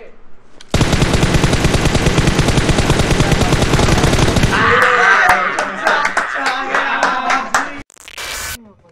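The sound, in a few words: gunfire in the video game PUBG Mobile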